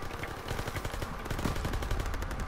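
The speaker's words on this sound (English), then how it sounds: "MGs, open fire." Sustained machine gun fire from the World War II shooter game Call of Duty: WWII, dense rapid bursts rattling on continuously at close range with no pauses.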